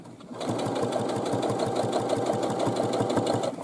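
A sewing machine stitches the top hem of a fabric bag with red thread, running at a steady brisk pace with a rapid, even needle chatter and motor hum, close up and uninterrupted.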